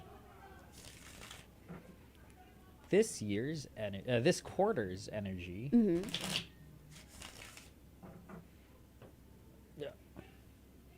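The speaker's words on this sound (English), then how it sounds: "All right, let's go do a shuffle." Tarot cards are shuffled in quick riffling bursts, close and crisp, with a person talking over and between the shuffles.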